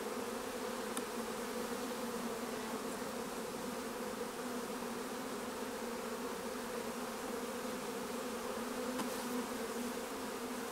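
Honeybees swarm around an opened backyard hive, making a dense, steady buzz that stays loud and unbroken throughout, with no voices.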